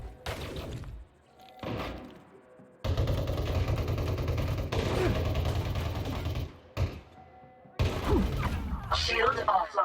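Enemy shotgun fire in the Elite Dangerous Odyssey video game during an on-foot firefight, heavy booming blasts and thuds coming in loud chunks with abrupt gaps, with mechanical clanks and a voice talking in between.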